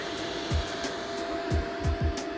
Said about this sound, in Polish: Taki mały wentylatorek.